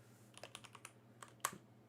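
A short burst of typing on a computer keyboard as an nmap command is entered: about a dozen light, close key taps in an uneven rhythm, ending in one sharper strike.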